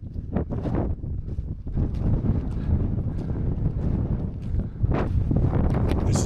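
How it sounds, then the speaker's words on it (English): Wind gusts buffet the microphone on a foggy winter hilltop in the Peak District, a loud, continuous low roar that swells and dips without a break. "It's windy."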